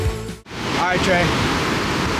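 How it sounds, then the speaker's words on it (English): A waterfall in Norway rushes as a loud, steady broadband roar after a brief dropout, with voices and a short shout over it. "You hop in this waterfall right now."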